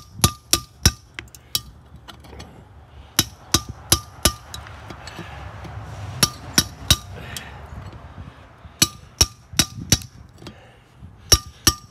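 Hammer blows on a rusted valve spring stuck in a 1960 cylinder head ring out as sharp metallic clanks in quick irregular bursts, close and loud, with short pauses between groups of strikes.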